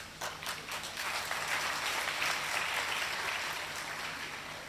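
An audience at a Hindi talk on Hanuman Chalisa and Vande Mataram bursts into sustained applause, a dense wash of clapping that holds steady throughout with no speech over it.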